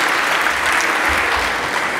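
Lecture-hall audience breaks into loud, dense applause, a close, continuous roar of many hands clapping together throughout the brief moment.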